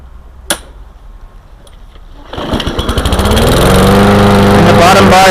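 Lawn mower engine starting up and running steadily while mowing, loud and close. Its rising drone builds after a brief click and sharp knock, then holds a constant buzzing tone to the end.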